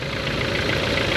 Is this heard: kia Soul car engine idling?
yes